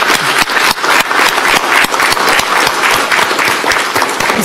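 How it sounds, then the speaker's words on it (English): Attendees at a county commissioners meeting give a round of applause, loud and close, with many hands clapping in a brisk, sustained patter. "I think that deserves a round of applause"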